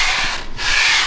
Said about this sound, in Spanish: una vez lijándola, y aparte no tienen que dejar rayas, esta es una 220